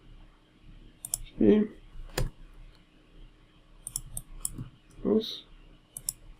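Scattered computer keyboard key presses, sparse light clicks close to the microphone during 3D modeling work, with someone speaking briefly between them.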